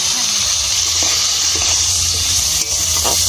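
Chopped papaya and turmeric hit hot oil in a home kitchen pan for a fish curry, giving a steady, close, loud sizzle with a bright hiss and occasional light stirring clinks.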